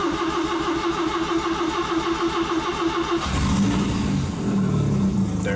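Mazda RX-7 FC rotary engine cranks with a rapid rhythmic starter whir for about three seconds, then fires and catches into a loud, rough idle, close and alone.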